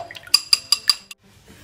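A whisk beating two egg yolks with fresh milk in a bowl gives four quick, bright metallic clinks in an even rhythm, then a softer tap and a brief wet swish close by.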